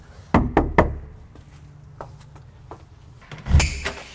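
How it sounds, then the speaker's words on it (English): Knocking on the front door of a house being walked through as a fix-and-flip, three firm raps close together, then a couple of softer taps and a final louder knock, with no talking. "I'm gonna go ahead and knock"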